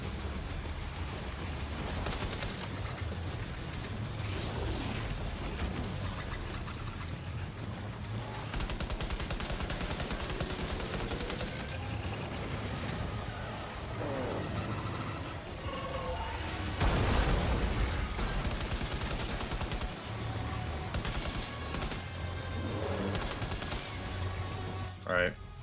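Rapid gunfire bursts and booming impacts in the video game Death Stranding 2, sustained and loud throughout with overlapping blasts, under excited talk from players.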